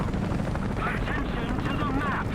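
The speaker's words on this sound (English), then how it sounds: "I hear another chopper." A helicopter's heavy rotor drone rumbles continuously in the video game War Thunder, with bursts of distant gunfire and voices mixed into the noise.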